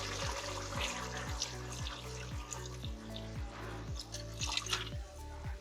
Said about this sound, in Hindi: दो गिलास पानी डाल दिया हमने